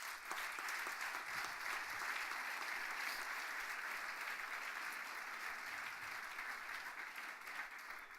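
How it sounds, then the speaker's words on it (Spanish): A church congregation applauding, steady continuous clapping from many hands that holds evenly for several seconds at moderate volume. "Denle un aplauso fuerte al Señor."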